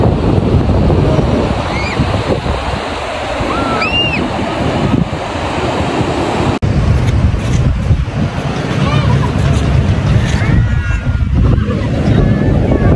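Surf rolls onto Pimping beach in Membakut under strong wind that buffets the microphone, a loud, continuous roar of breaking waves with occasional bird calls above it.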